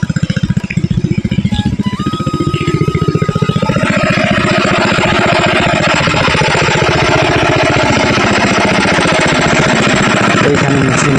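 A loud irrigation pump engine runs in a field, a steady, rapid low-pitched chugging throughout, close to the listener, with a faint whine and tonal rise early on.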